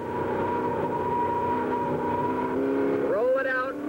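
A 1965 race car accelerates around a track with a loud, sustained engine drone that rises in pitch near the end as it revs harder. A commentator talks over the engine.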